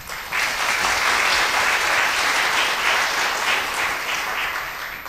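Steady, full applause from the audience at a Czech book launch, directed at the publisher, sustained and even throughout after a quick swell at the start.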